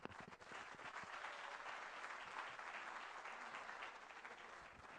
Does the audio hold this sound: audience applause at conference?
yes